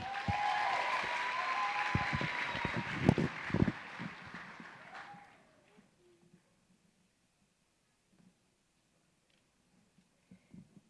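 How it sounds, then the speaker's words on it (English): Pageant audience applauds in a dense burst of clapping that fades out after about five seconds, leaving near silence with a few faint thumps. "Please give a round of applause for Sean McCurdy."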